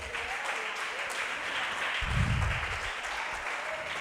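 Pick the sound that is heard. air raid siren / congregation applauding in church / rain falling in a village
congregation applauding in church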